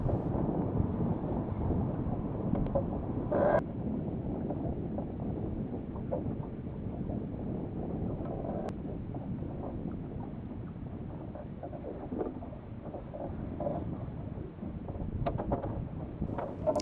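A sailboat under sail heading toward a marina as weather approaches, with steady loud wind buffeting and rushing water filling the whole stretch, broken by a few brief knocks and creaks; no one talks.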